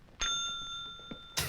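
A single bell rings out in a horror film, a clear sustained tone that holds for over a second before a sharp noise cuts in, with no talking over it.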